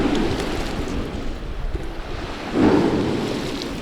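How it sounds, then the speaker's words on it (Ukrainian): Strong wind at the seaside buffets the microphone with constant low rumbling, over a steady wash of sea surf, loud and close, with a gust swelling near the end; no one speaks. "Тут сильний вітер."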